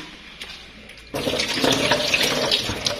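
After a brief quiet moment, water suddenly gushes from a tap in a steady, splashing stream close by.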